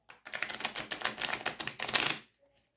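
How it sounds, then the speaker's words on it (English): A riffle shuffle of a Jean Noblet tarot card deck, freshly printed cards, a quick flurry of crisp clicking card flicks for about two seconds, close and clear, ending in silence. "Now, let me show you a riffle shuffle with this."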